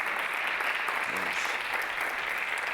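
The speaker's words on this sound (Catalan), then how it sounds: "Donem-li un aplaudiment, en Joan" A theatre audience at the 20th BBVA Theatre Prize gives steady applause for Joan Roura, the prize's director, a dense, even wash of clapping filling the short stretch without speech.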